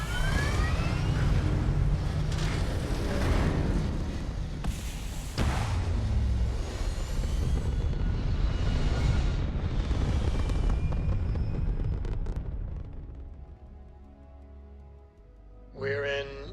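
A spaceship lifts off into orbit in the video game Starfield, with a loud, dense, roaring engine rumble and rising whooshes that fade over the last few seconds, followed by a brief electronic chime.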